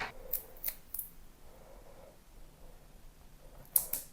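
Scissors snip double-sided foam tape to size for a handmade card, with three quick crisp cuts at the start, a quiet pause with faint handling, and two more snips at the end, close and clear.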